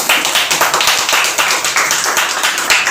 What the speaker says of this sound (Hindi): तो ऐसे ग्रेट गुरु के लिए ताली कैसा होना चाहिए?